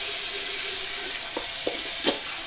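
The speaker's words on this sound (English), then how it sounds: "I'm just wetting my hair down again to give it some slickness." Water runs from a tap into a sink while hair is wetted down for shaving, a steady broad wash with a few brief splashes near the end.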